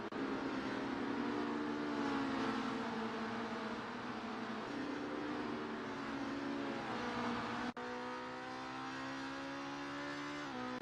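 Several race car engines drone steadily at high revs in a sim racing touring car event, their harmonic whine rising and shifting as drivers chase each other, with a brief dip in level partway through before the engines carry on.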